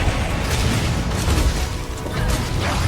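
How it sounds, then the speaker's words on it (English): Fire explosions in Monster Hunter World: Iceborne, loud dense booms and crackling bursts filling the moment without a break. "The blast radius on these fire explosions are"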